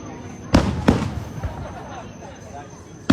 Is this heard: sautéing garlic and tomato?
no